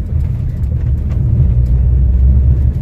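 A Maruti Suzuki WagonR LXi running on CNG drives along, its engine and road rumble forming a steady, loud low drone from start to finish with no voices.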